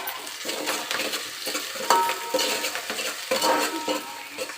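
Onions with green chillies and curry leaves fry in oil for an Andhra fish curry, a soft sizzle under repeated scraping and clinking of a metal spoon stirring against the pan, close and without talk.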